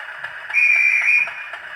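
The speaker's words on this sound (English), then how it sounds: "F23 is the guard whistle." A guard's whistle from a Hornby Class 50 model locomotive's TTS sound decoder blows shrill and steady for about a second over a low background hum.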